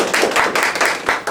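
At an International Women's Day gathering, an audience claps loudly in honour of a guest, a dense burst of hands rising and falling in uneven surges over just over a second.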